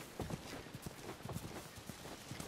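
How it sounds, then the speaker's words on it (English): Horse hooves clip-clopping at a walk in The Last of Us, a soft, uneven series of hoof falls heard faintly at a distance. "You guys have horses."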